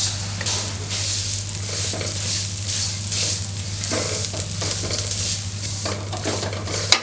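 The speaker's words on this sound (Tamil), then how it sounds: "இந்த சேமியாவை இதிலே போட்டு வறுத்துக்கலாம்." Vermicelli sizzles steadily in a hot pan, fried for pineapple kesari, with a constant close frying hiss, occasional stirring scrapes and a light clink of utensil against the pan near the end.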